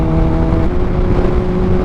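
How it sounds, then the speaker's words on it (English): Motorcycle engine held at high revs, a steady loud droning whine with strong harmonics running without a break for the whole stretch, close to the listener. "Bike should rev out to fucking 15, 16."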